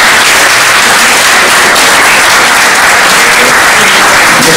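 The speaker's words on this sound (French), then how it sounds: "sous vos applaudissements" Loud, dense audience applause at an administrative information meeting, a continuous wash of clapping from a large crowd, steady and close throughout.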